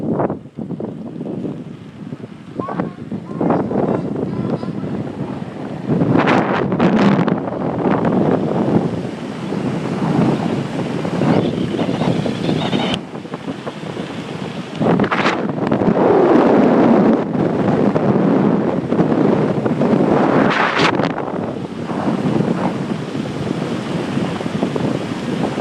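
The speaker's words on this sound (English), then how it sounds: "It's a little windy out." Strong wind buffets an outdoor microphone, a continuous rough roar with gusty surges and brief lulls, no voices.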